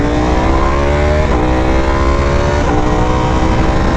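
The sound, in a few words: Aprilia RSV4 Factory motorcycle engine revving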